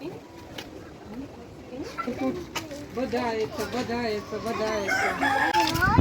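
Chickens cluck and call repeatedly near the listener, a hen sitting with her chicks at a zoo in Odesa, with a rooster-like crow rising toward the end amid busy background noise.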